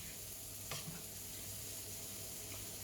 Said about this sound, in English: I'll want this to come back up to a simmer, and then it will reduce